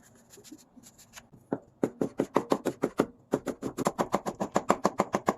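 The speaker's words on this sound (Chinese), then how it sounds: "如果有不好直切的部分，可以用片的手法，然后再切丝" A knife chops radish into thin strips on a cutting board: a steady run of crisp, evenly spaced close-up thuds. It pauses briefly near the start and again midway, then continues at a quick, regular pace.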